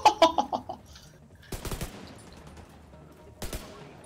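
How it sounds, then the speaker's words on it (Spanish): Bursts of automatic gunfire from the video game The Division 2: an opening cluster of shots, then two sharp volleys around the middle and near the end, moderately close, with sparse background game noise between them. "Estoy escuchando disparo para ese lado."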